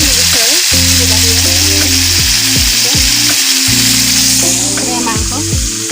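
Broiler chicken sizzling in a pan with tomato, onion and spices, a loud, steady frying hiss throughout with faint stirring and a low hum underneath.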